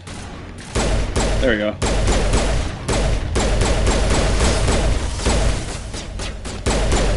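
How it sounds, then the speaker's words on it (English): Pistol gunfire in the video game Mass Effect, loud bursts of rapid shots with heavy thumps filling most of the stretch, and someone talking briefly over the firing. "It's better if I use the pistol for this"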